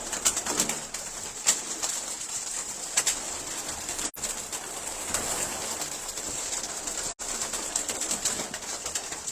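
Pigeons kept in a large group of around fifty or sixty birds coo softly and continuously, with a few sharp clicks and faint flutters breaking through the steady murmur.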